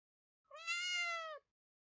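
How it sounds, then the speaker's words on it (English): A single clear meow from a small brown cat in a video game, rising and held for about a second before cutting off, close and alone with no talk. "There's a cat!"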